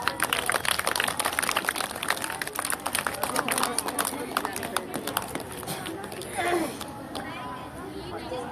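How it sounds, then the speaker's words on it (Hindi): School event audience breaking into lively clapping, a dense patter of many hands fairly close, tapering off after several seconds with chatter underneath. "ताली बजाएंगे।"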